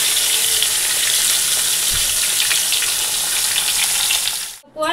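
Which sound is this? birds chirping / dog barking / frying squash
frying squash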